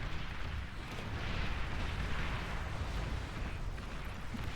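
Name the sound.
D-gun firing and explosions in video game Beyond All Reason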